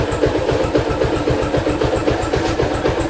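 A Yamaha LC135 motorcycle engine idles just after starting, a steady, rapid, evenly pulsing putter with a buzzy mechanical rattle on top, close and loud with no talk.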